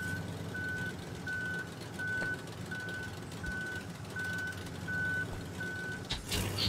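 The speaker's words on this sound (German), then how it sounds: "Ich versuche jetzt mal den LKW auf dem Punkt zu platzieren hier." A truck reverses in the Human Fall Flat video game, its backup alarm sounding a steady run of about nine evenly spaced electronic beeps over a low engine rumble, with no talk.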